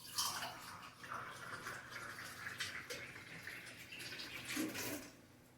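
Water poured into a measuring cup and onto ragi flour for thattai dough in a home kitchen, a soft continuous running trickle with small splashes, fairly faint.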